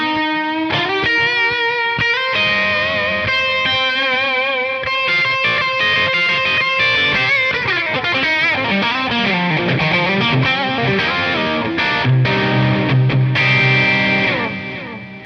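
Electric guitar notes ring out through an atmospheric delay preset on a Mr Black JDD-3000+ mk. II digital delay, repeats stacking into a dense, slightly distorted wash that sustains loudly throughout, with no voices.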